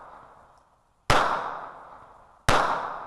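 Two sharp handgun shots from a double-action pistol with crude iron sights at a shooting range, loud and close, about 1.4 seconds apart, each cracking out and then decaying over a quiet background.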